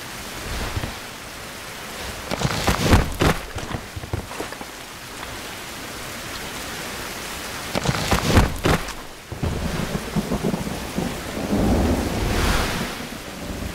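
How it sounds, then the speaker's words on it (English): A thunderstorm in the survival game Survival: Fountain of Youth, with steady rain hissing throughout and loud rolling thunder cracks near the 3- and 8-second marks, no voices. "Of course a flipping storm rolled in."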